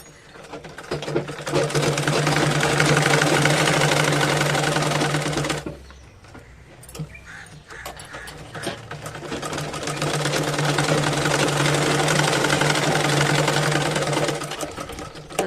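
A sewing machine stitches a gents' shoulderless school-uniform shirt, running in a long steady whir, pausing briefly with a few faint handling clicks, then starting again and whirring on close and loud with no talking.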